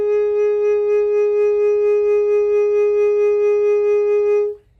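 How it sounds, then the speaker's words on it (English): A single sustained instrumental tone is held for about four and a half seconds, pulsing gently with intensity vibrato driven from the diaphragm, clear and loud, then cut off cleanly; no voices. "another type of vibrato is called intensity vibrato, or what people often call diaphragmatic vibrato"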